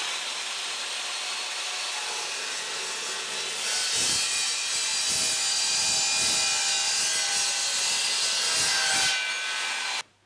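An Evolution Rage 2 power saw runs with a steady motor whine, then bites into a length of steel unistrut channel for about five seconds of harsh, gritty cutting before the motor stops abruptly.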